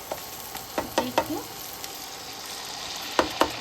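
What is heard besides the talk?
spice paste frying in oil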